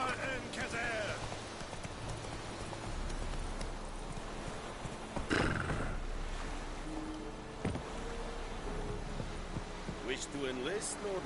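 Roach, a horse in a video game, gallops with steady, rhythmic clip-clop hoofbeats throughout, under a voice and background game sounds, with a louder burst partway through.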